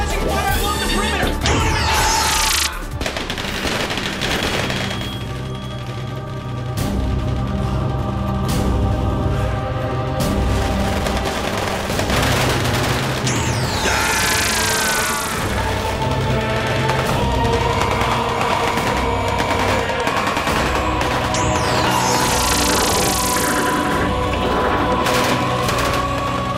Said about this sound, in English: Red Division, maintain suppressing fire along the perimeter!